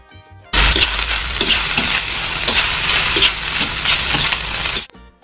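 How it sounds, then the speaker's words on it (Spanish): Rice being stir-fried with crushed ingredients for Indonesian nasi goreng: a loud, steady sizzle with repeated scraping and stirring strokes of the spatula against the pan, running continuously from start to nearly the end. "Y luego agregamos arroz y salteamos todo y mezclamos todo muy bien."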